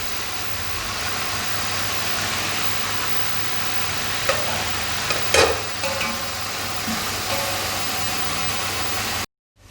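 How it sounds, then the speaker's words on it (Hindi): Chicken and onions browning in a pot for chicken pulao, a constant close hiss of frying with a few stirring clatters midway, cutting off abruptly near the end. "अब हम इसमें प्याज डालेंगे और इसको हम हल्का ब्राउन करेंगे"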